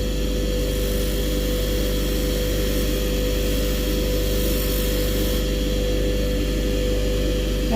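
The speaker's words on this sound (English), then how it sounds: "So we're just on the little buffing wheel." A small buffing wheel polishes a 105 howitzer data plate, its motor giving a steady, close, continuous drone and whir that holds without a break, with no talking.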